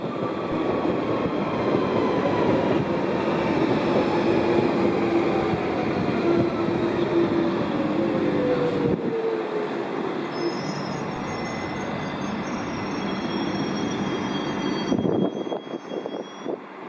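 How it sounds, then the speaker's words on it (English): A London Underground Central Line train pulls into Leytonstone, with a steady rolling rumble, drifting wheel squeal and a high whine that falls as it slows, then a louder burst of rumble near the end; no one speaks. "there's a train coming from the Hainault Loop for Ealing Broadway"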